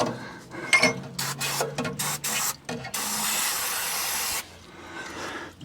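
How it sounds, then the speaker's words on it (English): Several short hissing bursts of brake cleaner aerosol spray into the engine bay of a Holden HK 253 sedan, ending in one long continuous spray. The spray is close and loud, with faint knocks in between bursts. "I'll try the brake cleaner."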